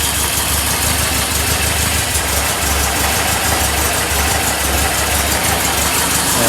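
Air-cooled engine of a 1965 VW Beetle idling just after starting, a loud, close, steady rumbling chug with rapid even pulses and a broad hiss over the whole span, no voices.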